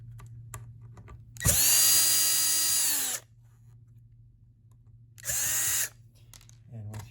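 A power driver whirs through two screws on a Mastermind PBC/6X panel: a long high-pitched burst, then a shorter one, both close and clear over a low steady hum.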